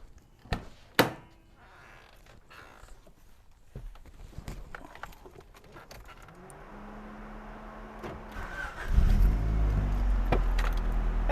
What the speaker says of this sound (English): now it's time to start this car up and see what I screwed up